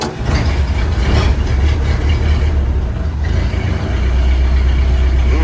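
A 1931 Ford Model A pickup engine cranks and catches, then settles into a loud, steady, close-up idle with a low rumbling pulse and no talking.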